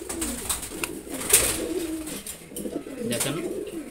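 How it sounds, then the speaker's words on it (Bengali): A pair of large foreign-bloodline racer pigeons coo nearby in low, rolling repeated phrases, with a few sharp higher chirps scattered over the steady background. "এটা বিদেশি ব্লাড লাইনের কবুতর রেসার।"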